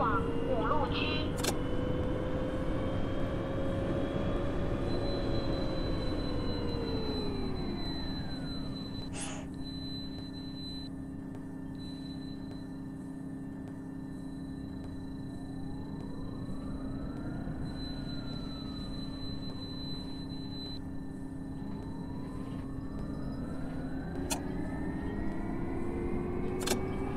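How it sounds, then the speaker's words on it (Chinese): Simulated Beijing city bus, route 104, pulling into a stop in the OMSI 2 game: engine and drivetrain whine falling as it slows, a steady hum while idling, then rising again, with an automated announcement voice speaking over it. "车辆进站，请注意安全"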